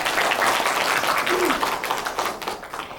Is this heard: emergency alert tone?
no